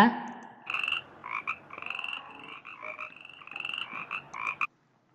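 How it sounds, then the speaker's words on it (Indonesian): A frog croaks in a rapid, rattling series of calls, close and clear, repeating in pulses before stopping abruptly. "ini suara kodok"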